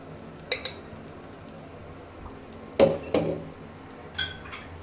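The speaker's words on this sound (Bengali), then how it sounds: "ভালো করে একটু মিশিয়ে নিচ্ছি।" A utensil scrapes and clanks against a pan while spinach paste is stirred in for restaurant-style palak paneer, with four or five distinct metallic knocks spaced over a quiet kitchen background.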